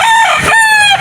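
A loud, close gamefowl rooster crow, a single strained cock-a-doodle-doo call with a rising then falling tone, heard alone.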